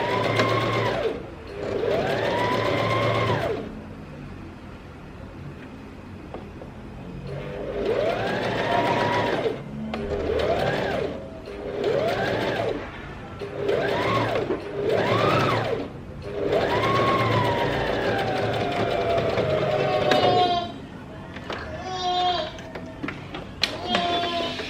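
A sewing machine topstitches over a back placket seam on a sleeveless dress, running in repeated bursts of several seconds with short pauses between, loud and close, with a brief stretch of quieter handling at the end.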